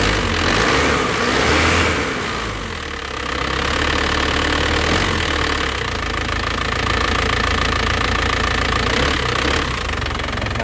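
A car engine runs steadily at close range, a loud low rumble with a faint knocking rattle, idling and swelling slightly in the first few seconds.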